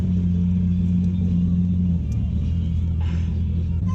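A small three-cylinder kei car engine idling nearby, a steady low rumble and hum that holds evenly throughout with a slight shift midway.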